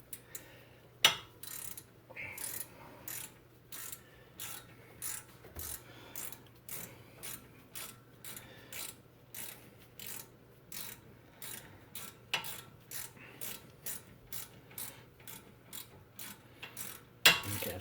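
A ratchet wrench turns out a front brake bolt on a 2004 BMW 325xi, a steady series of sharp clicking strokes in an even rhythm, close and clear, with no talking.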